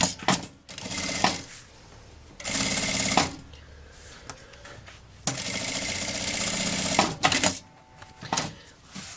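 A sewing machine runs several short bursts of stitching through nonwoven TNT fabric while a notebook holder is made. Loud whirring runs alternate with pauses and small clicks of fabric handling.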